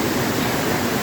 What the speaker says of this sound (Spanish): Desde la cascada de Artison, de aquí del sector de la Rinconada.